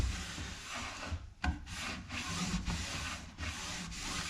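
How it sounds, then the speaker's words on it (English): Cloth wiping excess glue squeeze-out off a glued-up wood cabinetry panel, a steady close rubbing and rasping with repeated strokes and no talk. "Wipe down the squeeze out."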